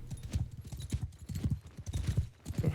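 Horses of a cavalry force galloping in a medieval battle video game, a dense, continuous run of hoofbeats in quick rhythm with a faint whinny, close and steady throughout.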